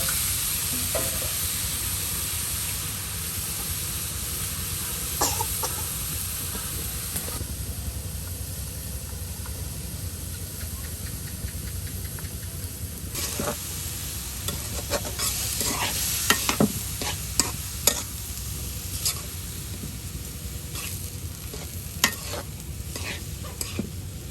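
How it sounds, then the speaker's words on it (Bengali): Water spinach greens sizzle steadily in hot oil over fried onion and garlic, with repeated stirring scrapes and clatter building through the middle, loud and close with no talking. "এটাকে একদম তেলে ভাজা পেঁয়াজ রসুন এর উপর দিয়ে দেওয়া হলো দেখুন এটাকে এখন মিক্স করে নেওয়া হবে"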